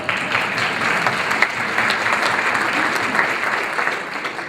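Continuous round of applause from a chamber of commerce breakfast crowd, a steady dense patter of many hands clapping at moderate loudness with no pause.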